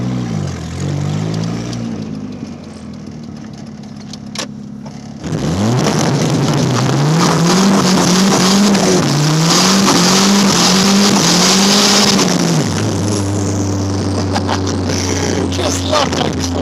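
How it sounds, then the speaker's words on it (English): A race car launches using launch control: low engine drone, then a sudden loud sustained revving surge with wheelspin as the tires fail to grip, rising and falling, before dropping back to a steady lower engine note. "Alright, Mars Bars is going to get his first taste of launch control."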